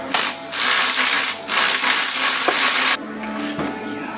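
Penetrating oil sprays from an aerosol can onto a car's front differential in two long hissing bursts, loud and close, followed by a quieter stretch of faint handling noise.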